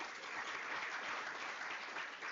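Steady applause from a town hall crowd fills the whole clip, dense and even, with no voices over it.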